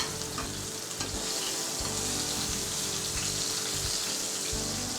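Butter sizzles and fries loudly in a hot pan around a searing steak, a steady dense crackle with occasional spattering pops throughout.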